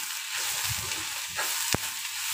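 Panch phoron spices with onion and garlic sizzle steadily in a small amount of oil, a constant close frying hiss with a few soft stirring scrapes and one sharp knock near the end.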